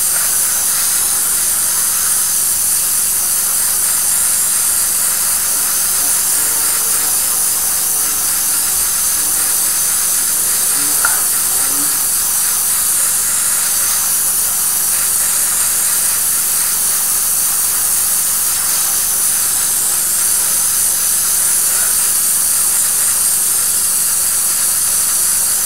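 An airbrush sprays paint onto a Tamiya 1/35 Nashorn model at about 25 psi, giving a continuous loud, close hiss that holds steady with a faint background hum.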